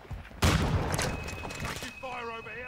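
Modern Warfare 2 gunfire with a VEL 46 submachine gun: a sudden loud burst of rapid shots, followed by lingering battle noise and a voice talking near the end.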